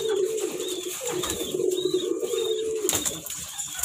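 Racing pigeon, a telo-type merpati balap, cooing close up in repeated throaty rolling coos, with a few light chirps and a brief wing flutter in the background.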